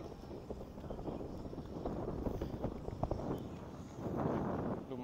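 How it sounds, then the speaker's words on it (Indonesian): Faint, steady wind noise buffets the microphone outdoors at the boat pier on Gili Trawangan, with low rumbling gusts and soft background clatter, swelling slightly toward the end. "Lumayan berangin di sekitaran dermaga Gili Trawangan."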